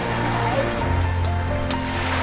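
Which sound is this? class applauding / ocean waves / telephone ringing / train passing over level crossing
ocean waves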